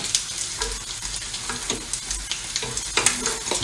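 Cheese-filled bread roll frying in a pan, a steady close sizzle with light crackles and occasional scrapes as it is turned.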